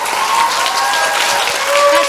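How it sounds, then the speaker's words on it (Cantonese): Applause for volunteer dancers at a church sisters' fellowship gathering, steady dense clapping from a crowd filling the whole stretch, loud and close with a faint tone running underneath. "好啦，俾啲掌聲我哋嘅臨時舞蹈員啦。"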